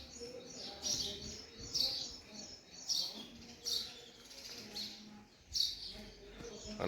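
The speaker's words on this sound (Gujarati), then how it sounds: "ચારે બાજુ પંખીનો અવાજ તમને સંભળાતો હશે." Birds chirp and sing in a village yard in the morning, with short, bright calls repeating about once a second at a moderate distance over soft background ambience.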